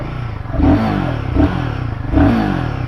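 A 2024 Royal Enfield Guerrilla 450 motorcycle engine with ride-by-wire throttle revs in three quick throttle blips that rise and fall over a steady, rough idle, heard up close.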